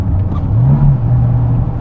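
Modified Fiat Seicento exhaust while driving, a loud steady low drone with a rising and falling tone as revs change, close inside the car and flat without burbles.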